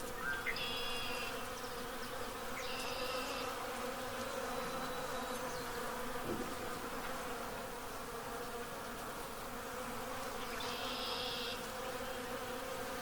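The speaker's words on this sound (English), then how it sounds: "And just by the sound alone, lots of bees." A dense, steady hum of many honey bees buzzing in the dark during the April 8, 2024 solar eclipse fills the air, with a few louder insects passing close by now and then.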